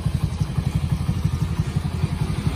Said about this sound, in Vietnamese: Xe này là máy đang nổ máy ha.